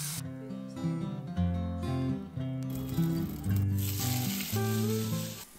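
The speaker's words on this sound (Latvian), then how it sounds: "Es viņus vienkārši apcepu ar sojas mērcītu." Oyster mushrooms fry in soy sauce with a steady sizzle that grows denser partway through, under prominent background music.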